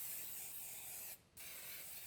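Cooking spray hisses from a can onto a preheated waffle maker in one continuous close, loud spray, with a brief pause in the middle before it resumes.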